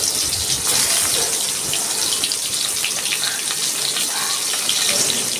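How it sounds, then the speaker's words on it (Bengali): Pointed gourd sizzling in hot mustard oil in a kadai, a steady dense hiss and crackle of frying that runs evenly throughout with no voices. "আমার তেলটাও গরম হয়ে গেছে, আমি পটলটা ছেড়ে দিচ্ছি।"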